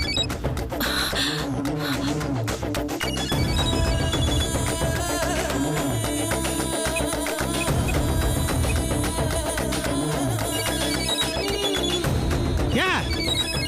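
A phone rings insistently in a Tamil TV serial scene, a continuous, loud electronic ringtone pattern with dense musical tones filling the whole stretch.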